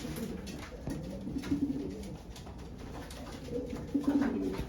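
Breeding pigeons in a loft cooing repeatedly in soft, rolling bursts, with a couple of louder coos standing out against steady low background noise.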